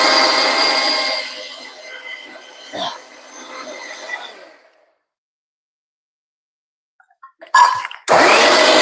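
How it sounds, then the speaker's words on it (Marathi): A mixer grinder runs with a steady whirring drone while preparing a Malvani-style meal of chickpea and dried-shrimp curry with yam vegetable. It stops halfway through, falls silent for a few seconds, then restarts abruptly at full loudness. "मिक्सर लावून गेला."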